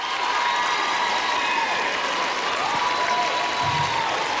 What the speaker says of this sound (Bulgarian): Вашите силни аплодисменти за Джисън и Стела!